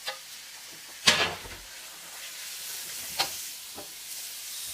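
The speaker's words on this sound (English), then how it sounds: "Next thing you want to put your meat in first." Meat sizzling in a stir-fry pan, a low steady hiss broken by a few sharp clatters of utensils against the pan, close, with no voices.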